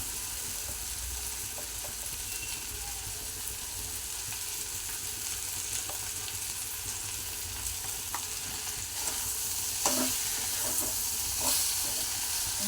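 Okra fries on a high flame, a steady, moderately loud sizzle running throughout with scattered scrapes and taps of a stirring spoon, swelling slightly near the end.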